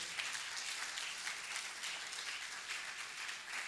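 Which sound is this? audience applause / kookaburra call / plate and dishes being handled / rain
audience applause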